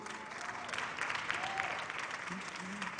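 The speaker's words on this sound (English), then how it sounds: "Please clap for me." Audience at a women's summit and expo applauding steadily as a speaker is called to the stage, a soft, even wash of clapping from a fairly distant crowd for a few seconds.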